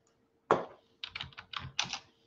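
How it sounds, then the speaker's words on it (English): Clicks of typing on a computer keyboard during an online live session, one sharp keystroke followed by a quick run of soft, close taps, quiet and with no talk. "Sorry if y'all hear me typing."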